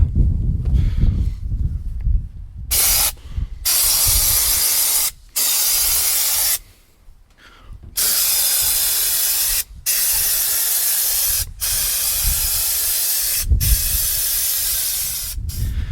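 Loud bursts of aerosol spraying hiss in long stretches, broken by short pauses between passes, as underbody protection coating is sprayed outdoors onto a Toyota Hilux.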